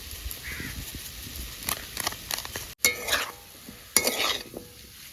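Potatoes fry and get stirred in a pan while making samosas, with soft sizzling beneath scattered scraping strokes and a few sharper clinks of a spatula against the pan, fairly quiet and close.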